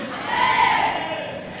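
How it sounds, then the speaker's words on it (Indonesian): Church congregation at a leadership training service cheering loudly as a crowd, a broad sustained roar that swells and then eases slightly, with no clear applause claps standing out. "Bersorak-sorai, tepuk tangan dulu."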